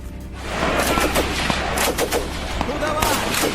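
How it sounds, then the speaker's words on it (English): Machine-gun fire in a battle scene from the September 1943 fighting at La Maddalena forms a dense, loud, continuous rattle of rapid shots with heavy rumbling underneath, and no pause across the stretch. "Gunner Sassi and others are mowed down by the machine guns."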